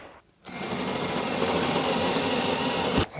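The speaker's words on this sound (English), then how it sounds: "And now we drill our holes." A power drill bores holes into a wall to mount a PRx Profile home gym rack, running steadily and loud for nearly three seconds before cutting off abruptly.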